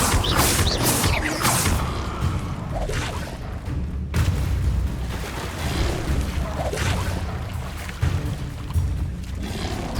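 Confringo fire spells blast repeatedly in Hogwarts Legacy combat, a loud, dense run of booming impacts and crackling bursts with rumbling low end and sharp hits, continuous over the whole stretch.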